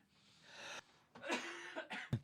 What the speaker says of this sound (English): I have a nasty cough, so I got to keep taking a cough break.